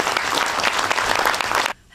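A festival audience at an Indian film screening applauds as the director takes the stage, loud dense clapping from a full room that stops abruptly near the end, leaving near silence.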